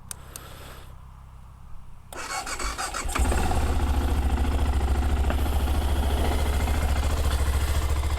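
A BMW F650GS motorcycle engine cranks for a moment, catches and settles into a loud, steady idle close by.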